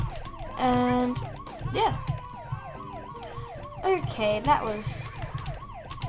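Police car siren in the video game Tasty Planet, a wailing tone rising and falling in rapid cycles amid other game sounds, with a person talking briefly over it.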